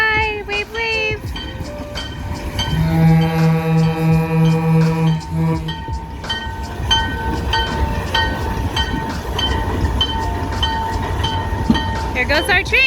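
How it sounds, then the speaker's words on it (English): A passing train, with a loud sustained horn blast followed by the rumbling, clattering roll of railcars going by nearby, with people talking over it. "Here goes our train."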